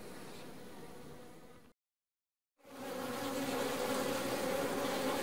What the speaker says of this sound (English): So here's another hive that just seems to be bursting with bees.